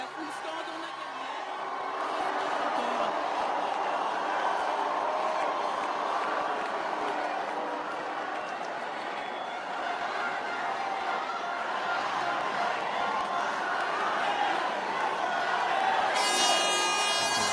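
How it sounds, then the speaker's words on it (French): Large outdoor crowd in Tulle celebrating François Hollande's presidential election victory on 6 May 2012, a dense continuous roar of voices with chanting, cheers and laughter, fairly loud and sustained, with talk over the top. "La foule scande, on a gagné."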